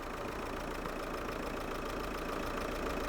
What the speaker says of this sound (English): Now you can hear the engine a lot better now.